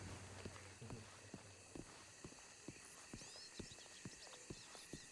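Horse hooves clip-clopping in a Western gold-rush roleplay video game, a series of light, irregular hoof knocks over a faint background hum and soft ambience.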